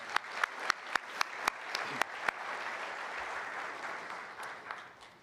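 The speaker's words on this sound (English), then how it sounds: "I'm going to give us a clap there." Applause at a city's state-of-the-city address opens with a few distinct, evenly spaced claps that quickly swell into a broad wash of crowd clapping, fading slightly toward the end.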